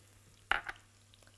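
Chopped onion goes into a frying pan, heard as a few quiet, brief clatters and a soft sizzle spread over a second and a half, with near-silence between the bursts.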